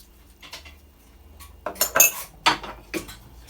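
Shrimp tossed with garlic powder, onion powder, salt and fish seasoning in a bowl for Jamaican peppered shrimp, giving a few soft clinks and scrapes that swell into a louder run of clatters near the end.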